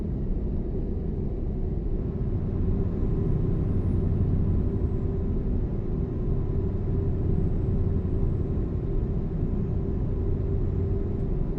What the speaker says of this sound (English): I hear just the low roar of kind of the tires rolling over the road